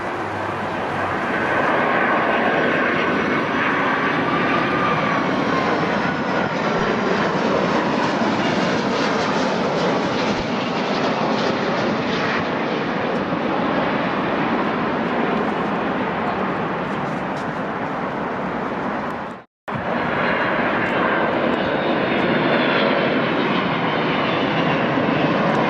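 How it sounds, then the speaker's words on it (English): A United Boeing 757-200 arriving from Denver roars loudly and steadily for about twenty-five seconds as it comes in to land at Newark, a sustained jet-engine rumble with a broad whine and no talking. "Next in is United 2058 from Denver with a Boeing"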